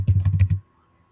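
A quick burst of about six close computer keyboard keystrokes in rapid rhythm while copying and pasting, then near silence.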